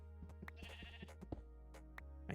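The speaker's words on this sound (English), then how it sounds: "I hear another sheep." A sheep bleats in the beta version of the Minecraft video game, a faint wavering call among scattered clicks and soft game noises, with no talk.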